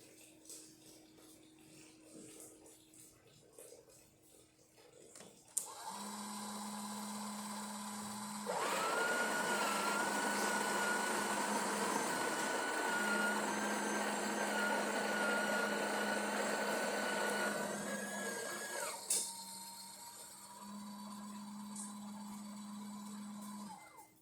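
A Breville Oracle Touch espresso machine runs with a low pump hum, then a louder grinding, whirring stretch of about ten seconds while brewing espresso, settling back to the steady hum with a few clicks.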